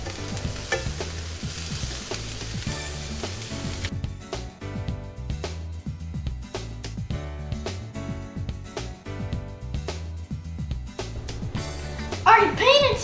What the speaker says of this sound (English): cup of coconut flakes and we're gonna toast it on the stove